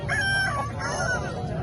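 An Aseel rooster crows close by at a poultry market in Tando Adam, a drawn-out cock-a-doodle-doo over a busy background of other fowl and outdoor noise.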